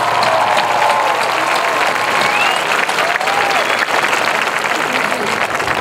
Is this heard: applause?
yes